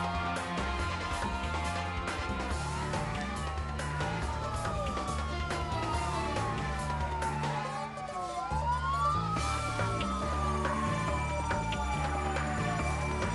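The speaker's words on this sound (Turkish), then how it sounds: "Şu an 6 itfaiye arabası buraya geliyor" Several wailing sirens from six Bursa fire department trucks rise and fall together over a loud engine rumble, overlapping continuously as the trucks draw close.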